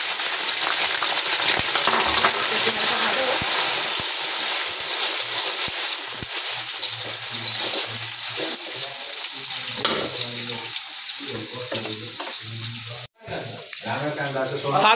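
Onion sizzles and fries in a pan, a continuous crackling hiss with stirring scrapes, under people talking.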